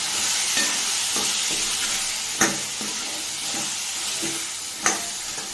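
Roasted gram sautés in oil for chutney with a steady close sizzle, broken by a few soft scraping stir strokes and two sharper clacks of the spoon against the pan.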